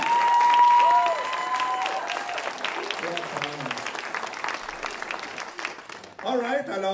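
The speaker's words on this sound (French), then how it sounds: "Une bonne main d'applaudissements" Audience applause at a local Cégeps en Spectacle student talent show final, dense clapping filling the room for about six seconds before a voice starts speaking over the fading hands.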